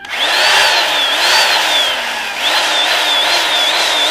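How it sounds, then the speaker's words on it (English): A loud power drill whines continuously, its pitch rising and falling in waves, with a brief dip midway before it revs back up. "the man above begins drilling noisily"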